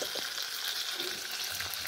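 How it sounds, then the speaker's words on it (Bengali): Fish frying in a covered pan on a stove, a steady soft sizzle with faint crackles throughout, close and fairly quiet, with no one talking. "দেখো ভাজা হচ্ছে মাছগুলো।"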